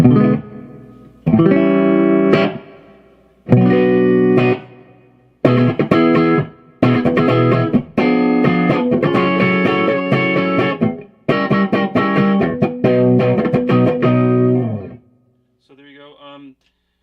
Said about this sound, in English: put a more pronounced reverb